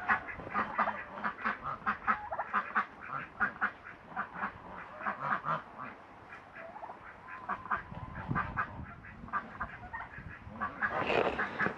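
Ducks and geese on a farm quack and honk busily while being given their morning feed, a dense, close chorus of overlapping calls that keeps going throughout, with a louder burst of honking near the end.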